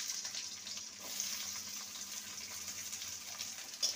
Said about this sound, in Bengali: পেঁয়াজটাকেও হালকা ভেজে নেব।